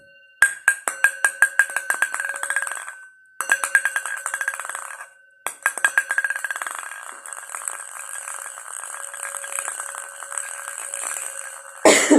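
A ping-pong ball bounces repeatedly in a ceramic bowl, quick accelerating taps ringing with a bright tone, pausing, then a long rapid rattling run.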